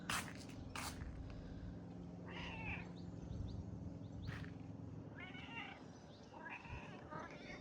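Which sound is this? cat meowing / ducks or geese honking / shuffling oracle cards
cat meowing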